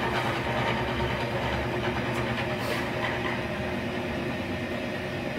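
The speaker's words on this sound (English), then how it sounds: "I'm going to fire it up here." Chocolate fountain machine switched on and running: a steady motor hum with a faint whirring drone, constant and fairly quiet throughout, with no talking.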